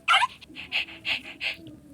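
Cartoonish dog sounds from the Toca Life World video game: a rapid series of about five short yips and whimpers, clear and close, with no talking over them.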